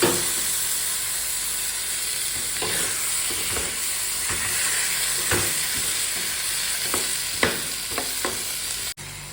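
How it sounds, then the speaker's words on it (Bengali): Hot water goes into frying spice masala in a pan, raising a steady steaming, sizzling hiss with intermittent stirring scrapes, close and fairly loud throughout. "একটুখানি গরম জল দিয়ে দিই নাহলে মশলাটা লেগে যাচ্ছে"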